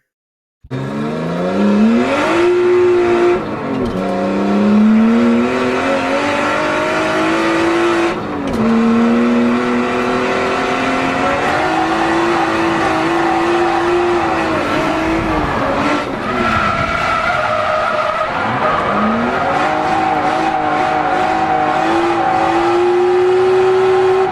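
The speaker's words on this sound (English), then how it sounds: "that clip of Noriaro actually drifting on North Course right here" A drift car on the North Course circuit roars continuously, its engine pitch climbing and dropping through gear changes and throttle bursts, with tire squeal and skidding layered over the loud, close, unbroken engine note.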